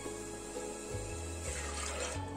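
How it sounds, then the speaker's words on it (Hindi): A small glass of water is poured onto soaked chana dal in a cooking pot, making a steady, close splashing and trickling sound. No voices are heard during the pour. "इसमें एक छोटा ग्लास पानी डालेंगे"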